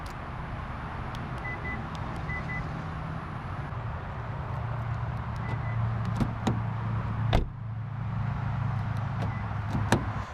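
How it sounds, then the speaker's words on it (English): Door of a 2017 Kia Soul Turbo car opening, a sharp latch click and thump amid soft chimes and a low interior hum, close and fairly quiet. "let's open the door and find out"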